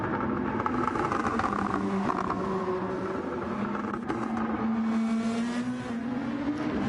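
Gran Turismo Group 2 race car on the overrun at Trial Mountain, a steady loud engine drone with shifting pitch under race commentary, no distinct pops standing out.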